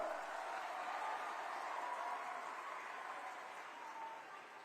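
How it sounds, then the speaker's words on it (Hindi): An audience at a state sports awards ceremony claps in a broad, even wash of applause that carries on throughout, fairly faint and distant, slowly fading toward the end. "तो फिर सबके ताली बजा के स्वागत करो ना, अभिनंदन करो"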